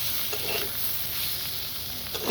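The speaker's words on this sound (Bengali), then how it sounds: "দিয়ে এবার নাড়াচাড়া করে নেব" Chowmein noodles with tomato sauce are tossed in a hot pan, a steady close sizzle with soft scraping stirs throughout and no talking.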